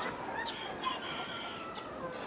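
Chickens clucking and making short calls close by while feeding, brief scattered vocalizations over a low background murmur.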